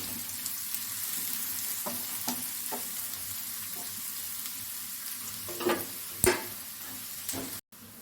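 Chopped onions, three large ones, frying in coconut oil in a pan for a chicken vindaloo, giving a steady close sizzle with occasional stirring scrapes and a sharper clatter near the end.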